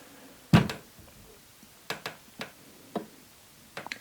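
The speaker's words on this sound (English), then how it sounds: "I hear a little creaking." Drywall anchor loaded with about 75 to 85 pounds of weight, beyond its 50-pound rating, giving off faint, irregular creaks and ticks, one sharper crack followed by scattered softer clicks in a quiet room.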